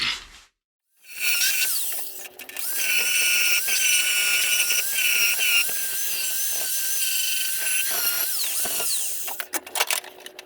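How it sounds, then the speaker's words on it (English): An angle grinder fitted with a flap disc cleans sheet metal on a Squarebody C10 during kick panel installation, a loud sustained high-pitched whine that starts after a brief silence and runs steadily with slight pitch dips, close by. "Let me get my flap disc, get this cleaned up."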